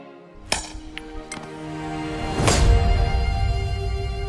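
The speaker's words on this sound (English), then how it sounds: "I'm ready to split it open by hitting very hard on each wedge with a big sledgehammer." In an Age of Empires IV quarry scene, a big sledgehammer strikes iron wedges to split stone, giving about four sharp metallic clinks with a heavier ringing blow last, followed by a low rumbling background.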